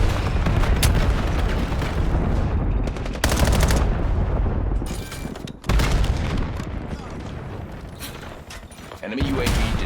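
Cluster grenade blasts and gunfire in a multiplayer shooter game: dense, continuous rapid firing and booming explosions, loud and close, broken by a few brief gaps, with game voices mixed in.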